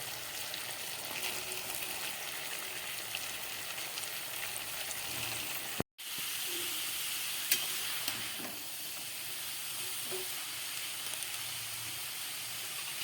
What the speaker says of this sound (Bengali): এবার এই কষানো মশলার মধ্যে আর আলুর মধ্যে আমি দিয়ে দিচ্ছি কেটে রাখা বাঁধাকপি।